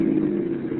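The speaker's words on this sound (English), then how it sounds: "Listen, here comes another car." A car engine hums steadily on a road in an old-time radio drama, a short, mid-loud drone with no voices over it.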